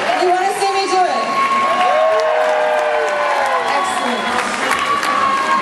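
Street-show audience clapping and cheering at a sword ladder climb stunt, a dense continuous wash of applause with whoops, close and loud throughout.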